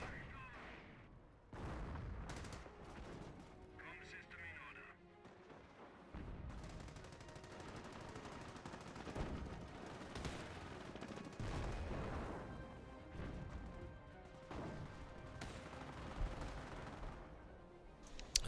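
Artillery and gunfire in a video game battle, with repeated booming impacts and rattling shots forming a dense, continuous barrage that stays steady and loud throughout.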